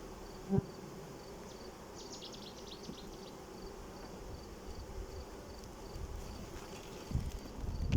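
Faint honeybees buzz in bursts against a quiet background at a hive colony, with a soft knock near the start and some rustling toward the end.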